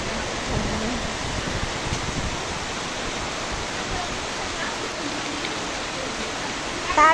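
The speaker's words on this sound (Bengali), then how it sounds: "দেখেছেন বন্ধুরা কি সুন্দর বৃষ্টি, এবং দেখুন বৃষ্টি বাতাসকে টেনে নিয়ে যাচ্ছে।" Heavy wind-driven rain falls in Dhaka, Bangladesh, a continuous broadband wash of water with gusty swells, fairly loud and close throughout.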